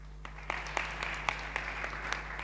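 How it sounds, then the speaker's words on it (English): Scattered applause from a conference audience, sparse claps fading in and out over a steady low hum, moderately distant and fairly quiet. "Let's give a round of applause."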